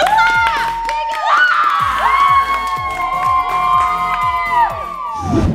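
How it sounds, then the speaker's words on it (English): Children at a judging game cheer and shout together, with high excited voices and whoops over a repeated low rhythmic beat; clapping is not clearly distinct. "So everybody clap!"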